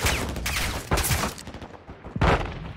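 Rapid bursts of gunfire in the video game Call of Duty: Modern Warfare II, three or four sharp volleys cracking loudly in quick succession with brief gaps between them.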